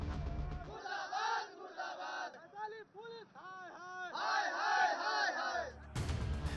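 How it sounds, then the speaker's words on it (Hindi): An angry crowd blocking a road in Hajipur, Bihar, chants slogans against the state government and police, rhythmic shouted bursts swelling and falling together, loud and close, cut off abruptly near the end. "आक्रोशित भीड़ ने बिहार सरकार और पुलिस के खिलाफ जमकर नारेबाजी की"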